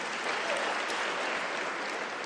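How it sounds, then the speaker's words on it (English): Audience clapping at a university's official closing ceremony for the 2025 academic year, a dense, steady wash of applause from a large crowd filling the whole stretch without voices. "I think we need a round of applause"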